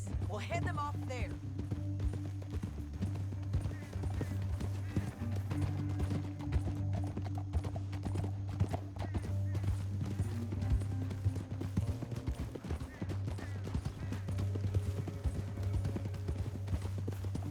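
Horses gallop in a steady clip-clop run in the video game Red Dead Redemption 2, under a low droning score, with occasional voices and no pause in the hoofbeats.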